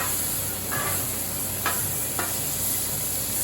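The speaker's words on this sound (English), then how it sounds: "Now we're going to throw them on the griddle and see what we get." Freeze-dried hamburger patties sizzle on a very hot griddle, a steady close hiss of frying throughout with a few faint scraping clicks and no talking.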